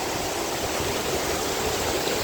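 A waterfall in Samoa roars in a steady, dense rush of white water, even and unbroken throughout with no voices.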